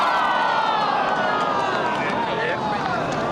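A golf crowd at the Australian Open at Royal Melbourne reacts to Cam Smith's missed five-foot final putt with a steady, loud, dense roar of groans and murmurs that lasts throughout.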